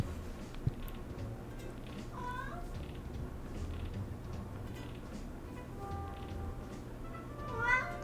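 A cat villager in Animal Crossing New Horizons gives a couple of soft, brief meows over quiet game background sound.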